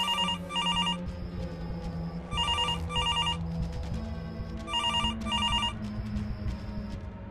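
A landline telephone bell rings in repeated double bursts across a tense scene in a Marathi thriller serial, loud and insistent over a low background hum, with no talking.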